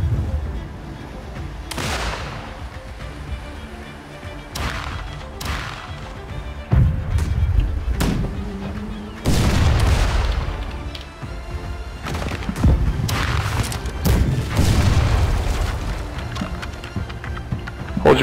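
Gunfire in a naval ship-boarding video game: repeated sharp musket and pistol shots, some in quick volleys and some single, spread over a noisy battle with crashing impacts.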